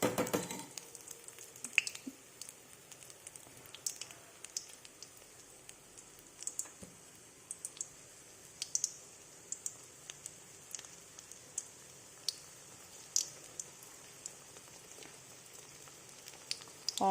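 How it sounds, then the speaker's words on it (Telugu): Onion omelette frying in hot oil in a pan, a soft steady sizzle with scattered crackles and pops throughout, fairly quiet and with no talking. "అందులో ఆయిల్ పోసుకొని బాగా కాగిన తర్వాత ఆనియన్ ఆమ్లెట్ వేసుకుందాము"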